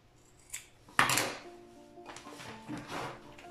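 Scissors cut into a lid, a sharp close snip followed by softer scraping and crinkling sounds.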